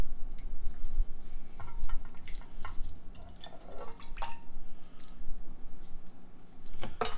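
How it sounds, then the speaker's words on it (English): Canned peaches with their juice being poured into a 9x13 baking pan over melted butter, giving wet drips, squishy plops and a few light clinks of fruit landing in liquid. "So I'm going to pour the fruit in here. Juice and all, it says."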